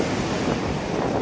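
Big ocean waves crashing and surging near a fishing boat with nets, a loud continuous roar of surf with wind noise on the microphone.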